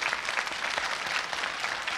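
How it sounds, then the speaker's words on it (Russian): A studio audience on the TV quiz show Zvezdny Chas applauds the contestants. The clapping is dense, even and continuous, fairly close, and lasts about two seconds with no speech. "Аплодисменты."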